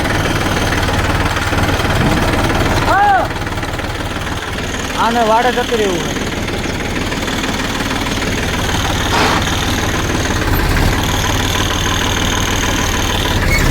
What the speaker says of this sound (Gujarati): તો ટ્રેક્ટર ચાલુ કરો